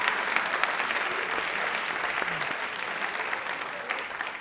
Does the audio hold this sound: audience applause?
yes